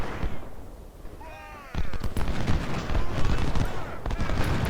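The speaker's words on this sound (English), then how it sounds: "Macintosh is now taking artillery fire" Artillery fire in the Ultimate General: Civil War game, a steady roar of distant booming cannon and crackling gunfire with a faint whistling streak, continuous and loud throughout.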